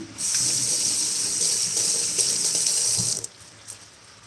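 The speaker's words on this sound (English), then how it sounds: "And rinse my knife." A kitchen tap runs as a knife is rinsed under it, a steady close hiss of flowing water for about three seconds before it shuts off, followed by faint clinks.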